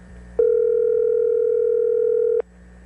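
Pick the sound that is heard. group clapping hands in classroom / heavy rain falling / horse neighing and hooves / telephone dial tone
telephone dial tone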